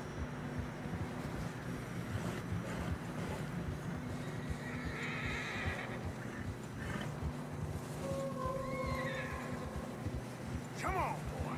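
Horses trudge through fresh snow in Red Dead Redemption 2, snorting and whinnying with soft hoof sounds over wind. Someone speaks briefly, and a clear neigh rings out near the end.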